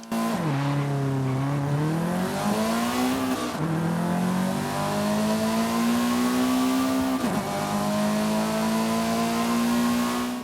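A Lotus 340R sports car engine in Forza Horizon 5 drones and revs loudly for about ten seconds, pitch rising and dipping with gear shifts, no voices.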